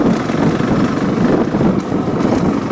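Steady roar of a Honda CRF450L motorcycle ridden down a dirt double track, engine drone blended with heavy wind buffeting on the microphone, loud and continuous with no talk.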